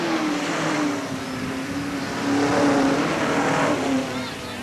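Sportsman race cars lapping Hales Corners Speedway in 1989 roar steadily at close range, engine note swelling and easing as they pass, with a faint announcer's voice beneath.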